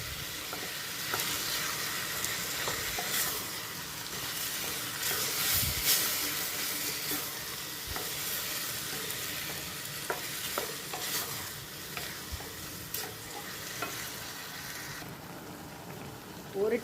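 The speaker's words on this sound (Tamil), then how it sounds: "இப்போ வெல்லம் முருகணுன்னா கொஞ்சம் நீர் விட ஆரம்பிச்சாச்சு. இந்த நீரெல்லாம் வற்றி சுண்டி வரட்டும்." Jackfruit and jaggery cook in a pan with water, bubbling and sizzling softly with occasional stirring scrapes and clicks, a quiet, steady background hiss.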